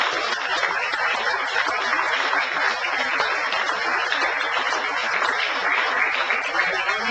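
A room of conference attendees gives a sustained, even round of applause, a dense continuous clapping texture holding steady for several seconds with no talk over it.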